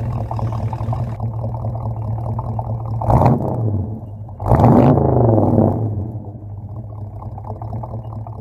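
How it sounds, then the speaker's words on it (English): A 1968 Valiant's Mopar engine idles with a steady low rumble, then swells twice into loud revving bursts, the second longer and deeper, before dropping back to a burbling idle. "And that exhaust note from a Mopar engine, you can't beat it."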